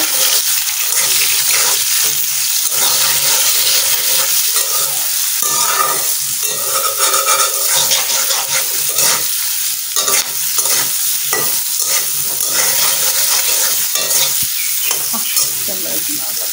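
Food being stirred by hand in a cooking pan, a loud continuous sizzle with rhythmic scraping and tossing sounds repeating throughout, close and dense, no talking.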